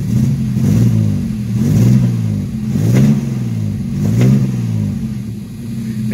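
A 1983 Ford Mustang convertible's carbureted engine, just repaired after a carburetor leak, runs close by with a rough, loping idle that rises and falls in slow rhythmic surges, loud and steady with no talking.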